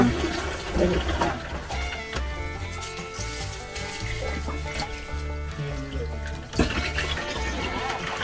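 Water rushes continuously from a drinking-water source in Tamil Nadu, a steady, loud flow with a sharper splash near the end and no clear talk.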